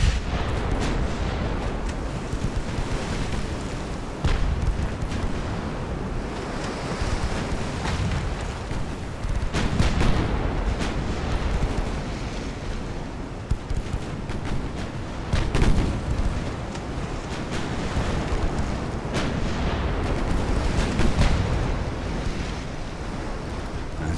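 Naval guns fire during a battle in the video game Ultimate Admiral: Dreadnoughts, with 1890s-era U.S. Navy warships exchanging shots. The booms come repeatedly beneath a constant loud roar of sea and wind.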